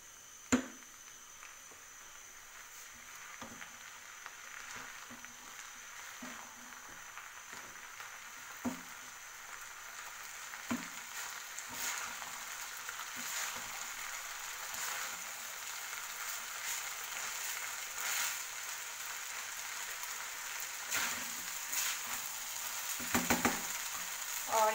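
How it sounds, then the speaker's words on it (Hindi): Chicken fried rice stirred in a pan over high heat, a steady background sizzle with scattered soft clicks and scrapes of a utensil, growing slightly louder toward the end. "अभी हम इनको अच्छे से मिक्स करेंगे। हाई हीट पे इसको पकाना है।"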